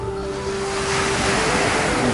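Ocean surf rolling onto Kuta Beach, Bali, with surfers out on the water: a steady, broad wash of breaking waves, close and continuous, with some wind rumble underneath and no voices.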